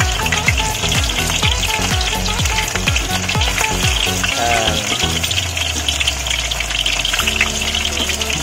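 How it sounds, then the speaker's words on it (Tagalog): Lapu-lapu fish frying in hot oil in a pan, a loud continuous crackling sizzle with bursts of popping and spattering throughout, no talking. "Ngayon na po, ipiprito na po natin."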